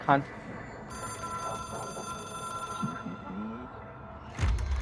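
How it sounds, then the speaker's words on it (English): A telephone rings in the video game Control, a steady electronic ringing tone that holds for several seconds, moderately loud, with low voices and game sounds underneath and a heavier thump near the end. "It is a phone."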